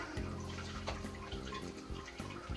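Water running from a garden tap to water plants, a soft continuous splashing flow with faint gurgling, close but quiet, with no speech.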